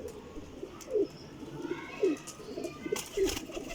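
Several soft, low cooing calls from teddy pigeons, spaced about a second apart, fairly close and quiet against light background noise and a few faint higher chirps.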